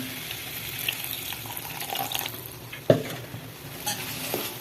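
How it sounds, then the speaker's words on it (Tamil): Ginger garlic paste, turmeric, coriander and chilli powder masala with capsicum sizzling in a pan after a little water is poured in, a steady close hiss with stirring scrapes and a sharp splash-like burst midway. "கொஞ்சமாக தண்ணி ஊற்றுவோம்"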